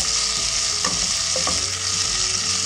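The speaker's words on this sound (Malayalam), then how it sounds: "ഇഞ്ചിയും വെള്ളുള്ളി ഇട്ടതിന് ശേഷം ഞാൻ ഇട്ടേക്കുന്നത് വേപ്പിലയും പച്ചമുളകുമാണ്" Garlic, ginger, curry leaves, green chili and tomato sautéing in a pan for a beef curry, with a steady close sizzle and a few scraping stirs of the spoon.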